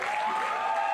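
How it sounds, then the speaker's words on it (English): Audience applause at an event celebrating a performer, a dense, steady wash of many hands clapping, loud and sustained through a brief moment with no let-up. "one big round of applause for Ram Lakshman"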